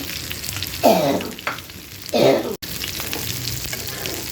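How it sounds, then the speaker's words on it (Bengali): Onions frying in a pan with a little red chili powder for a prawn curry, a steady close sizzle broken by two swelling scrapes of stirring. "পেঁয়াজগুলো এই পরিমাণ ভেজে নেওয়ার পর আমি এখানে সামান্য পরিমাণ হাফ চা চামচ পরিমাণ লাল মরিচের গুঁড়ো দিয়ে নিলাম"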